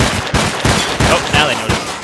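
Rapid bursts of suppressed gunfire from a silenced weapon in the video game S.T.A.L.K.E.R.: Clear Sky, about five loud, close, muffled shots in quick succession over a continuous noisy background.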